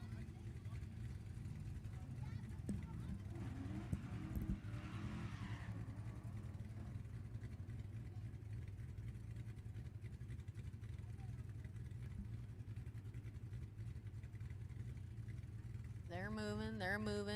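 A 1961 Ford F100 truck with a Dodge 318 cubic inch engine runs a drag race, its engine a loud, steady, low droning roar throughout, with a brief higher rasp near the start and a voice over it.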